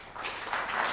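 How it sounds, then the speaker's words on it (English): Audience applause for a panel at a regenerative agriculture discussion, a dense, steady wash of clapping from a seated crowd. "please join me for a round of applause for the panelists"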